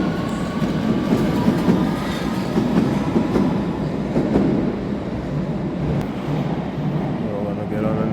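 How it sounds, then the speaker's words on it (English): A London Underground train rumbles and clatters through a station, loud and continuous, with wheels rattling on the rails and a brief squeal near the end. "So we're gonna get on the next train going that way."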